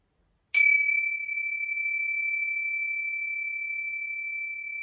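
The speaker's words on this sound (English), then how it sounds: "Would you like to ring the bells, Reuben?" A single bell or chime struck once during a family yoga session, a bright ding that rings out clearly and sustains with a long, slowly fading tone.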